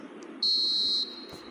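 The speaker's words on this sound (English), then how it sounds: "Added time is up. And there goes the whistle." A referee's final whistle in the eFootball 2026 football video game, one long steady shrill blast in the middle of the clip, loud over a low crowd murmur.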